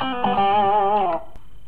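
Electric guitar through a Marshall 800 amp model with 12AX7 preamp tubes, one brief sustained note with wide vibrato, clear and alone, then cutting off quickly.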